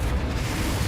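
A Confringo blasting spell explodes in Hogwarts Legacy, a loud, dense, rumbling burst that fills the short moment from start to end.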